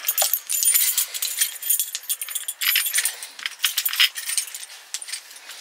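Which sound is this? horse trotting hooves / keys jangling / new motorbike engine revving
keys jangling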